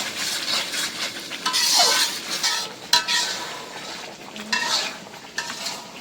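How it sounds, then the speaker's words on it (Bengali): Spices and softened onions being sautéed and stirred in a pan: a spoon repeatedly scrapes and clinks against the metal over a continuous loud sizzle, with no one talking. "এখন আমি ভালো করে কষাই দিব মশলাগুলো।"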